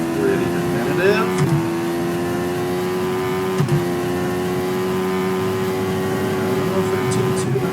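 Hayabusa-swapped Mazda Miata pulling away from a standing start in the Assetto Corsa driving game, a steady high engine drone with a brief shift blip, loud and continuous throughout with background talk.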